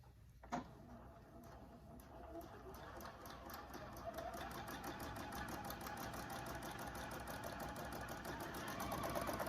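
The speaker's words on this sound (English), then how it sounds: "we're gonna go ahead and baste that V neckline at 1/4" A sewing machine bastes the V neckline of a raglan top at a quarter-inch seam allowance. After a brief click it settles into a steady, close, rapid stitching rhythm that builds slightly in speed, with no talking.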